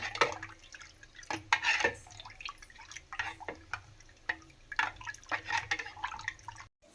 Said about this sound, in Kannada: ಸಣ್ಣ ಬಟ್ಟೆ ತಗೊಂಡಿದ್ದೀನಿ ಇದಕ್ಕೆ ಹುಣಸೆಹಣ್ಣ ಸೋಸ್ತಾ ಇದ್ದೀನಿ